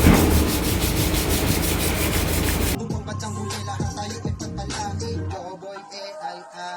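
Animal horns are sanded, heard first as dense, steady abrasive rubbing that stops abruptly, followed by scattered scraping strokes, taps and knocks at close range with no talking.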